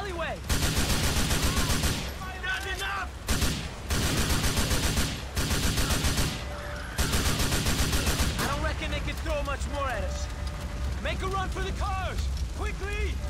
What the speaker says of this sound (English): And that assault rifle, whatever, is amazing.